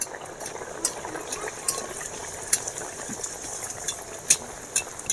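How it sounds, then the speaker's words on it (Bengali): Steady crackling and sizzling of kachori (pea-stuffed fried bread) frying in hot oil, with scattered sharper pops and spatters over a constant bubbling hiss. "তেল গরম হয়ে গেছে, এবার আমি ভেজে নেব।"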